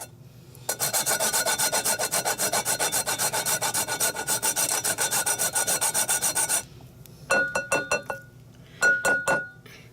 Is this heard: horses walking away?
no